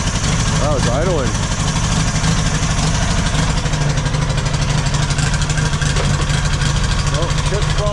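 A Yamaha XS650 motorcycle engine running on a single carburetor idles steadily and close by, a loud, even throbbing rumble, with brief rising throttle blips near the start and end.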